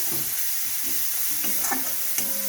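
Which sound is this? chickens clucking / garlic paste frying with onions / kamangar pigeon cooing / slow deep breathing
garlic paste frying with onions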